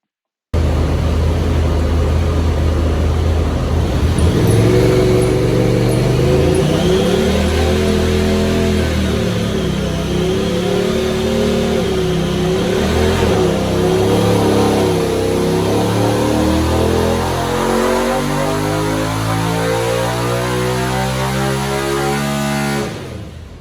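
A stock-tuned Honda Talon 1000 side-by-side engine runs a pull on a dyno, roaring loud and steady as its pitch climbs through a long, sustained rev.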